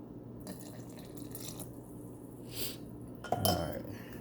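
Water is poured into enchilada sauce in a kitchen pot, giving a soft trickle and splash, with faint clinks of cookware and a louder clatter near the end.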